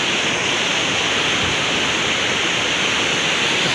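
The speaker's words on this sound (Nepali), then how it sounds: "देख्न सक्नुहुन्छ यता खोला छ" A large river rushes past below a bridge, giving a loud, constant roar of turbulent water that fills the whole moment without any break or speech.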